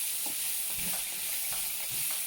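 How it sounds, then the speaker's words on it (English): Vegetables stirred in a hot frying pan, a steady close sizzle with soft scraping strokes of the spoon, loud and continuous throughout with no talking. "Stir in, make sure they hit the bottom of the pan so you can"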